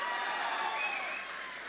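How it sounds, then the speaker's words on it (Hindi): An audience applauds in a hall at a Manoj Muntashir talk, a dense, even wash of clapping that holds steady and tapers slightly near the end, with no talking over it. "अभिमन्यु के लिए तालियां बजनी चाहिए"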